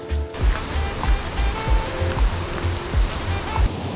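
A garden waterfall pours in a steady, full rush of splashing water, close and continuous with a low rumbling churn throughout.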